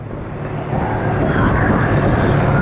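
A vehicle engine-brakes in fourth gear down a steep hill, giving a loud, steady droning rumble that swells slightly over a few seconds.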